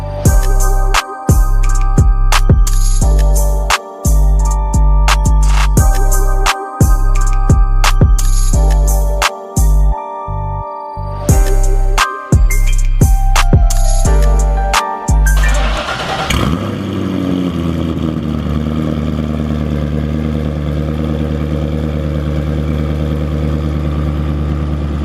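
A straight-piped widebody Chevrolet Corvette C6 engine runs loud and close, cranking and sputtering with repeated catches and cuts for about fifteen seconds before settling into a steady, rumbling idle.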